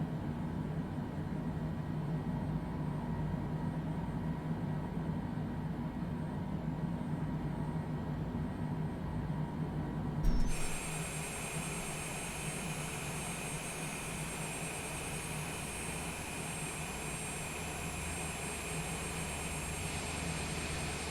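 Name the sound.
aircraft right engine starting in a flight simulator game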